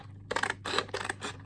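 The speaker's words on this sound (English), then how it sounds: "I'm going to cut this top with" Scissors cutting through the top of a book page in an altered-book collage project, with four crisp, close snipping bursts in a quick, uneven rhythm over a faint steady hum.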